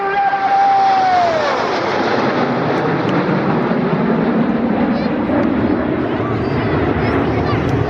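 RAF Red Arrows aerobatic jets flying at the Cosford air show, a loud sustained jet roar with a falling whine early on, heard under a commentator's voice.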